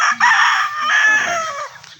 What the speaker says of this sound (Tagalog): Ayan, mga champion ng mga manok.